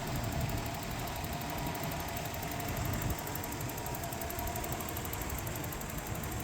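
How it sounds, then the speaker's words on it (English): Nissan RB30E engine idling under the bonnet of a Holden VL Commodore: a steady, even rumble with constant broadband noise, holding a level drone from start to finish with no talking. "Under the bonnet, this VL is sporting the legendary Nissan RB30E engine."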